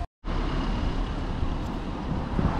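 Wind gusts near Windermere Lake at Bowness-on-Windermere in the UK, a steady, loud rumbling buffet against the microphone after a brief silent gap at the start, with no speech.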